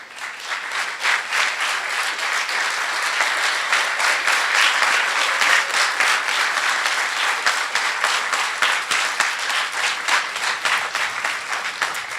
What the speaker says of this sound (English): I also want to give a huge, huge round of applause to all of the DelDOT mentors.